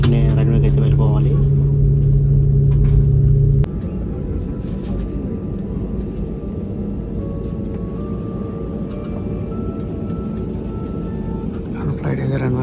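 A passenger airplane taxis onto the main runway at Goa, its steady low engine rumble and whine filling the cabin throughout, louder for the first few seconds and then settling into a constant hum.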